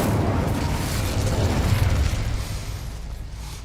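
Incendio fire spell cast in Hogwarts Legacy, a loud continuous roaring whoosh of flame that holds steady for a few seconds, then fades slightly near the end.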